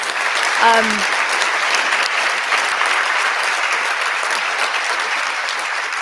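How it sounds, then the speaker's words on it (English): Audience applause at an International Women's Day conversation event, sustained dense clapping from a large crowd filling the whole stretch, with a short voice near the start. "Round of applause, ladies and gentlemen"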